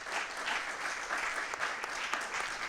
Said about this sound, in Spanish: les pido por favor que les demos un gran aplauso